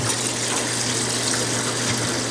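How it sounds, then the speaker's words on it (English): Steady rushing water from a tap or hose washing grease off a wheel bearing, a continuous close gush with no pauses. "And so we're just washing all the grease off."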